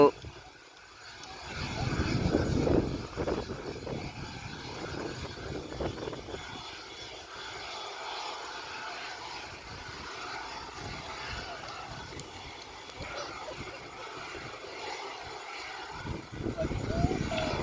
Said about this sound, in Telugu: విమానం ఎగరడానికి సిద్ధమవుతుంది